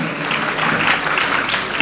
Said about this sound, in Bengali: একটা জোরে হাততালি ওনার জন্য চন্দনবাবুর জন্য